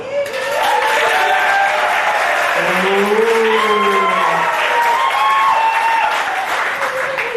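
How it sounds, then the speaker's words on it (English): Sustained applause from a crowd fills the whole stretch, steady and loud, with music playing underneath. "can we have your applause for Steve and Sally Powner?"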